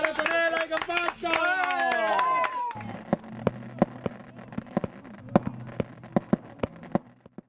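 Crowd clapping at a running event comes in after singing voices end, sounding as sharp, separate claps over a low steady hum and growing thinner toward the end.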